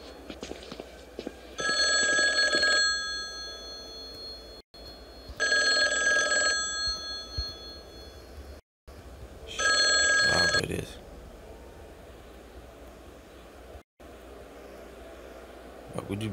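A telephone bell rings in three long bursts separated by pauses inside the horror video game Mental Hospital IV. It sounds clear and fairly loud over a low ambient drone, with faint footsteps between the rings.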